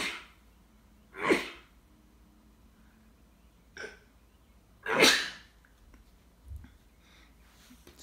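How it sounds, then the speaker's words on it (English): A person sneezes twice, each sneeze a sharp, fairly close burst set apart by quieter breaths and small gasps, in a quiet room. "excuse me, I'm going to sneeze"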